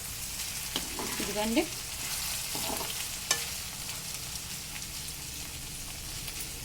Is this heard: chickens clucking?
no